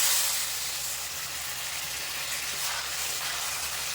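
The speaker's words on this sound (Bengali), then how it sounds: "এবার জল দিয়ে দেবো এটা কিন্তু শুকনো শুকনো হবে বেশি ঝোল হবে না সেজন্য অল্প করে জল দিয়ে দেবো" Water poured into a hot pan of potatoes fried in spices for a Bengali fish-head kata chorchori gives a steady, even hiss and sizzle that holds throughout, close up with no voices.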